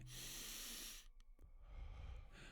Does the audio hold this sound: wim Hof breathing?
yes